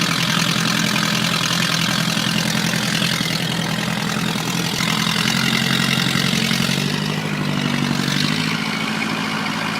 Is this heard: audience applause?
no